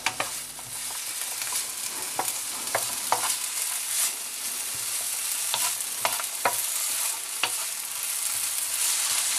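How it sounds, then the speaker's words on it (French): Onions fry in a pan with a dense, bright, steady sizzle, punctuated by scattered pops and light stirring taps, with no one speaking. "On continue à cuire les oignons."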